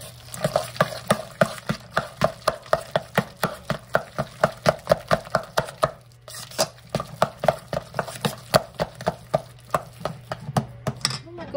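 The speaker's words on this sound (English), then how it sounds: "need to do is mix in one egg. And we're going to get that nice and stirred up in there." An egg being mixed into a salmon burger patty mixture in a bowl, a fast, regular series of close wet slapping and scraping strokes, with a brief pause midway before the rhythm resumes.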